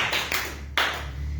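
A church congregation clapping in a few short, sharp bursts, fairly close, with no talking over it.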